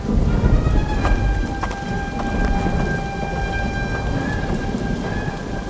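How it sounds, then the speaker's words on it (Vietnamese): Heavy rain pours steadily over a surface in an animated folk-tale film, with rumbling thunder and a few sharp cracks, loud and continuous with no voices. "Mưa lớn rồi"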